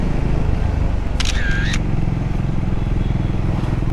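A TVS Victor motorcycle engine runs with a steady, close rumble throughout, broken briefly by a short electronic chirp.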